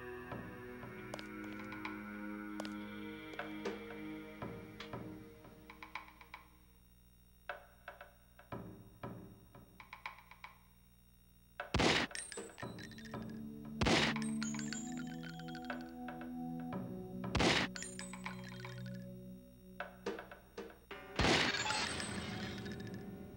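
In a Deus Ex training area, sharp shots strike a practice target as several bright, ringing metallic cracks spaced seconds apart, followed by short tinkling echoes, with no talk.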